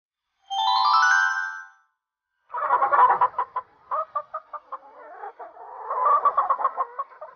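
A hen clucks in a series of short, loud, close clucks after a brief ringtone-like chime, set in an animated children's story about a hen family and a wolf cook.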